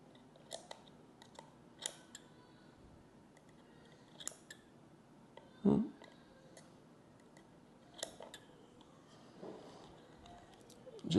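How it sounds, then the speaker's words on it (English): Scissors snipping cotton wick on a vape rebuildable atomizer, a handful of quiet, sharp, scattered clicks against a faint background. "Just trimming it back."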